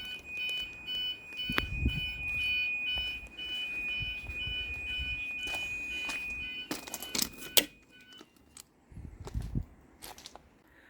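A Gent Vigilon fire alarm sounds during a system test, a steady high electronic tone for several seconds, then clicks and knocks as the system falls quiet, with no talking.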